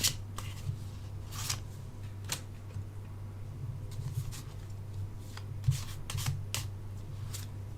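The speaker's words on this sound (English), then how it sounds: "And we're going to pull 3 cards here." Tarot cards being pulled from a deck, crisp slides and flicks of card stock in scattered short strokes, close and quiet over a steady low background hum.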